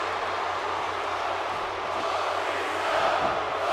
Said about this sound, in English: Some people cheer for Batista.